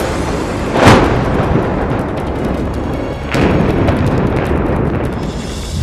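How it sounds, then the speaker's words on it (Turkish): Two heavy booming bomb blasts, the first near one second and the second about two seconds later, each followed by a sustained rumbling roar. "Şu an bir bomba atıldı."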